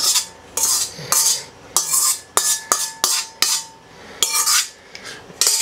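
Ground beef with salt, pepper and thyme being mixed in a bowl, a run of repeated metal-on-bowl scrapes and sharp clinks in a quick irregular rhythm, close and loud, with no one talking.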